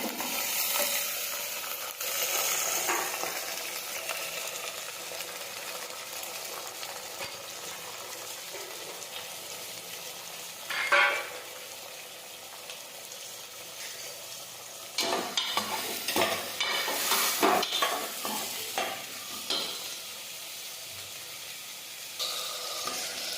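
Chopped mixed vegetables, green peas and pigeon peas sizzle steadily in hot oil in a pan for a Gujarati vegetable curry, with a spoon stirring and scraping in a few louder clusters.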